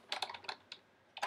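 Quick keystrokes on a computer keyboard, a cluster of crisp clicks followed by a pause and a final short flurry, close and fairly quiet with no voice over them.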